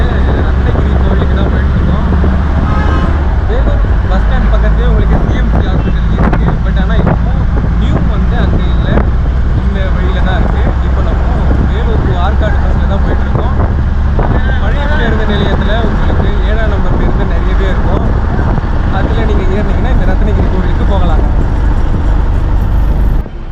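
A bus driving through Vellore near the old bus stand, its engine and road noise a loud, steady rumble with wind buffeting, traffic around, and someone talking over it.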